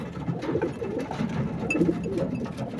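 Pigeons cooing close by in a loft, a continuous low burbling murmur from several birds overlapping throughout.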